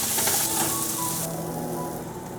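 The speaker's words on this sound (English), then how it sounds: "We're gonna let it stir fry for 4-5 minutes until it gets crisp" Food stir-frying in a pan over high heat for a Goan balchao pickle, a steady close crackling sizzle that eases slightly toward the end, with no voices.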